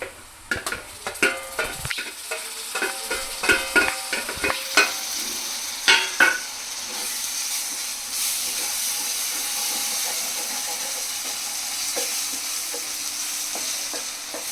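Finely chopped small tomatoes fry and get stirred in a pan for egg keema curry, with clanking stirring strokes over the first six seconds, then a steady close sizzle and hiss that continues alone.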